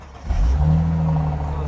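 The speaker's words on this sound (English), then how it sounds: "Car started." A Mercedes SL R230 engine cranks and catches at about a quarter second, then settles into a steady, close, fairly loud idle hum.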